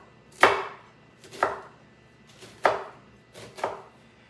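Half an onion being chopped with a knife on a cutting board: four sharp, distinct chops spaced about a second apart, close and clear with quiet pauses between.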